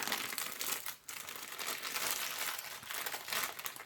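Cardboard tears along the tear tab of a small toy figure box, a close, crackly crinkling and ripping that carries on for several seconds with one short pause.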